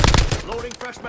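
Rapid bursts of video game gunfire crack loudly right up close, densest in the opening moments, then continue as quieter shots over a busy background of in-game noise.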